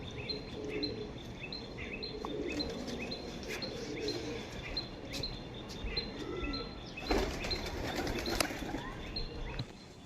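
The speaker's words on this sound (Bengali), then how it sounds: "বন্ধ দুমের পায়রাটাও" Pigeons at a Howrah pigeon loft flap their wings and chirp close by in a steady bustle, with low background murmur and a louder burst of wingbeats near the end.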